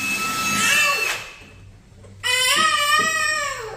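A worker runs a power drill into a house wall, heard as a loud whine that stops briefly and then starts again with a rising pitch. No one speaks over it.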